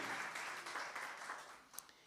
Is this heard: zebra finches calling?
no